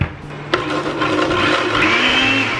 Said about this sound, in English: I'm going to start putting this stuff in a blender.